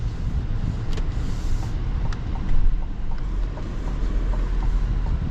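A low, steady diesel inline-six idle from a 2026 GMC Sierra 1500 Duramax truck rumbles continuously, smooth without distinct chugging, with faint higher hiss and a few light clicks over it.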